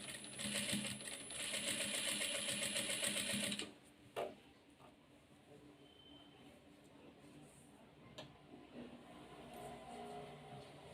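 A sewing machine stitches piping onto a round neck, whirring in a fast, steady rhythm for a few seconds and then stopping, with a few clicks and quiet handling afterward.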